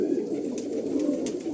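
Andhra pigeons in a loft coo with soft, continuous low murmuring from several birds close by.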